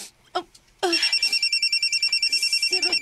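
A mobile phone rings with a rapid, pulsing electronic tone that starts suddenly and repeats steadily and loudly, after a couple of brief sounds.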